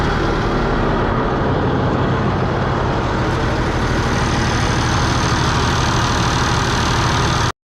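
An International 4366 tractor engine idles loud and close, a steady, even diesel rumble that runs unbroken for several seconds before cutting off abruptly at the end.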